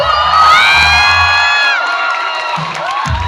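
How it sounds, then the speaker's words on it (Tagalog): A crowd at SM City Caloocan mall cheers and whoops loudly for about three seconds, shrill overlapping voices rising together and then fading out. "Isa po lang malakas na palakpakan na may kasamang hiyawan!"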